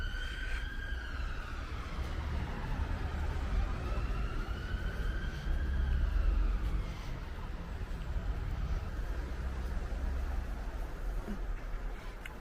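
Police sirens wail in the distance across the city, rising and falling steadily over a constant low rumble of traffic along a canal, faint but continuous throughout.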